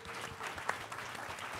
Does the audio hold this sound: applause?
yes